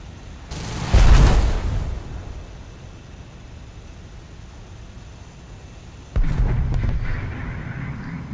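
An F-86 jet's guns firing in a flight combat video game: two loud, rumbling bursts of about a second each, separated by several seconds of quieter engine drone.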